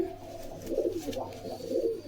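Domestic pigeons cooing up close among fancy breeds, including yellow-eyed birds, in a steady run of soft, throaty, rolling coos with no talk over them.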